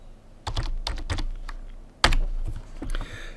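Typing a command on a computer keyboard at a command prompt: a few scattered, close keystrokes in small clusters with one sharper, louder key hit near the middle, and no talking.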